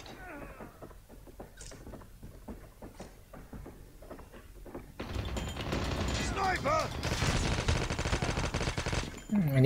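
Shots from an AK117 rifle in the mobile game Call of Duty Mobile crack out in scattered single bursts, then build into dense, sustained automatic fire that gets louder.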